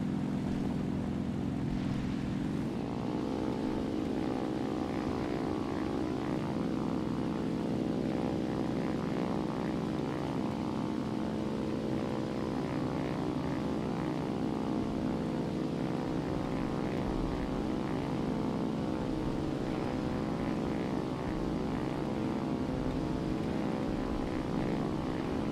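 A propeller aircraft engine drones loud and steady in the War Thunder flight simulator, a dense continuous roar with a small pitch rise early on and then a constant hum with slight pulsing.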